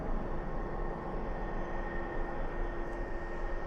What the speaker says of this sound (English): Oh no, it's an A300 freighter